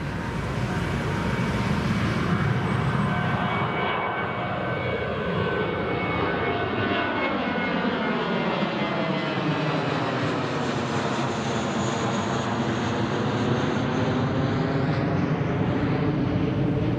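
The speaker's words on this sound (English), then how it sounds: "that's the British Airways just departing." British Airways airliner departing Newcastle airport, a loud continuous jet engine roar with sweeping whining tones that shift in pitch as it passes and climbs away.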